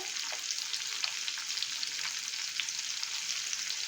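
Indian gooseberries (amla) sautéing in a pan, a steady close sizzle and fry with light stirring scrapes throughout, no voices.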